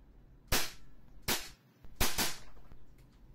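An EMG TTI Sand Viper airsoft pistol fires in a blowback test: four sharp, loud snapping shots, close by, spaced irregularly with the last two fired in quick succession, no voices.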